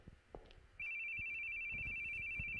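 A telephone rings in the horror video game The Boogie Man, a sudden steady electronic ringing tone that starts after a moment of faint room noise and footsteps, then holds continuously and fairly loud over soft thumps.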